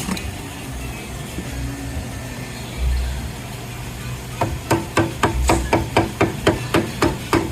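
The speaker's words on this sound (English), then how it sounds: "Removing the drive shaft bolt." Rapid, evenly spaced ratchet or impact-tool clicks removing a drive shaft bolt on a 2017 Audi Q7 during transmission replacement, close and loud over a steady shop hum, with no talk.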